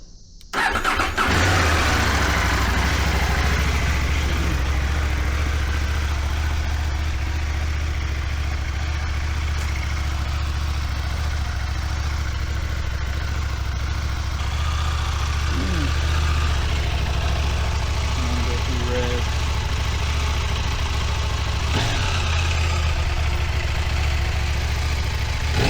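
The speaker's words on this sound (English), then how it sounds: "This is how the stock exhaust sounds." Stock exhaust of a 2025 Husqvarna Svartpilen 801 motorcycle starting up and then idling steadily, a loud continuous low rumble close by that runs the whole time with no talking.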